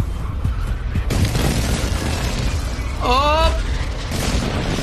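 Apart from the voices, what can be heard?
airstrike explosions in the video game Warzone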